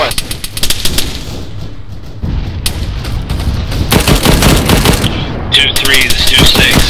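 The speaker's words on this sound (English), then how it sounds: "Don't know where that shooting is coming from." Sustained automatic gunfire and scattered shots in an ARMA 3 military battle, bursts rattling continuously across the scene at mid distance with a loud, dense texture and no pauses.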